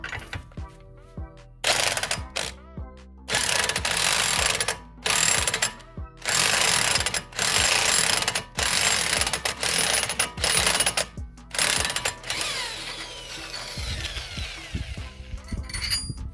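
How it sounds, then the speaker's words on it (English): A torque wrench ratchets on a wheel bearing bolt during a front wheel bearing job on an Infiniti G35 / Nissan 350Z, giving loud, close bursts of rapid clicking in repeated strokes with brief pauses between them. "But luckily I have a torque wrench."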